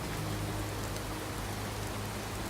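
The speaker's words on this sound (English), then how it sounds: "Man, I do love the sound of rain" Constant rainfall in modded Fallout 4, an unbroken wash of drops hitting surfaces with a faint low hum beneath, even and moderately loud from start to finish.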